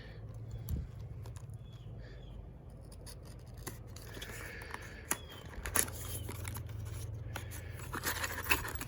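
A small cardboard hardware box with stuck tape is pried open, giving quiet rustles, scrapes and sharp tearing snaps at close range over a faint low hum.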